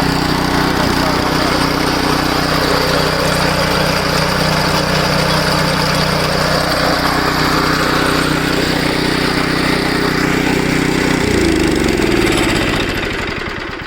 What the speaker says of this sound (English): So to start it up, you got to flip this switch in the front here to the on position